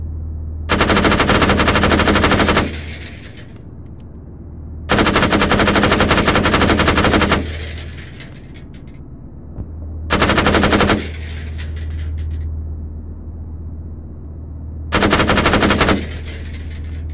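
Video game machine gun fire in four long sustained bursts, each a few seconds long and separated by pauses, loud and close over a low steady rumble.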